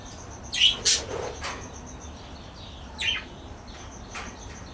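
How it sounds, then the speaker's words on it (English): Small birds inside an aviary give several short, bright chirps and tweets in quick clusters, then a few scattered calls, fairly close over quiet background hiss. "Inside the aviary"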